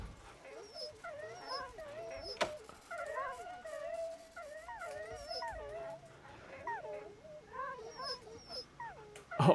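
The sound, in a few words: dogs whimpering in the video game Wasteland 2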